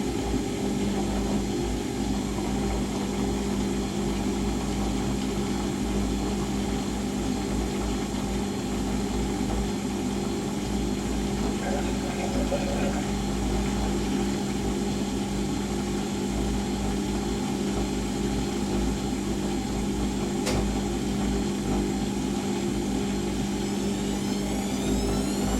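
A Siemens WH54080/07 Extraklasse XL 1000 washing machine runs a 90°C cottons cycle, its drum spinning with a steady, loud mechanical hum and whine that holds constant throughout.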